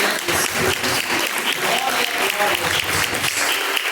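A church congregation at a live IPDA service applauds in a dense, continuous roar of many hands that stays loud and even throughout, with voices faintly underneath.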